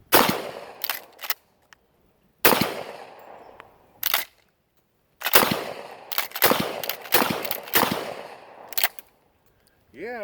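A Winchester Model 1897 pump shotgun fired outdoors on a cut hayfield, several loud sharp blasts in irregular bursts with brief ringing decay and pump-action clacks between, close and dominant.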